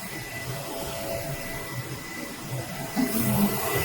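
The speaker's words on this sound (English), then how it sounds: "Then the printer starts to print the picture out" A FocusInc Galaxy-Jet 18 large-format printer prints a picture, giving a steady whirring hum with a faint constant whine, and the mechanical noise grows slightly louder and busier toward the end.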